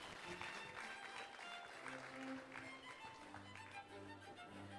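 An audience at a school felicitation ceremony applauds a student's achievement, scattered clapping heard faintly with sustained keyboard-like music tones underneath.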